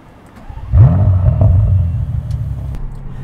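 A 2019 Bentley GT W12 with a QuickSilver exhaust system gives a deep rev, the engine swelling to a loud low roar from idle, then easing back into a sustained rumble.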